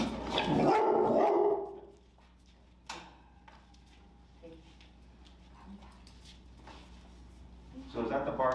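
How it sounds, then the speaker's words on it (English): A nervous, human-reactive 7-month-old Rottweiler barks indoors: a loud, close cluster of barks at the start, then quieter yips and whimpers scattered under a steady background, with people talking nearby. "So is that the barking that you usually see,"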